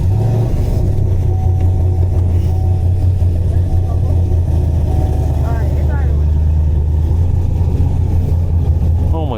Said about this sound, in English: Start this car up again.